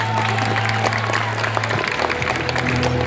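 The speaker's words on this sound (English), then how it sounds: "Let's get a big round of applause for our competitors." Audience applause and crowd noise at a live stunt show at Universal Studios Orlando, a dense wash of clapping under a steady hum, brief and fairly distant.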